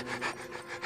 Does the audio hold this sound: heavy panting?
yes